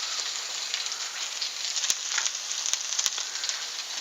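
Onions hit a smoking-hot wok for a cabbage and shrimp stir-fry, setting off a loud, continuous bright sizzle with a few sharp crackles and pops.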